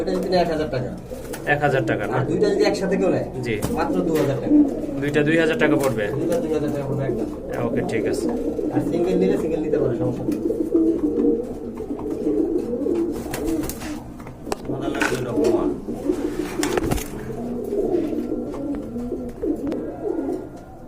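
Gola pigeons at a pigeon sale cooing in repeated low throaty calls close by, with people talking and bargaining throughout alongside clatter and handling noises.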